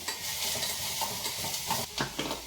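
Onions sizzling in hot oil as a tempering for masala idli, a steady bright crackling fry with a few stirring scrapes near the end, close and continuous, no voices.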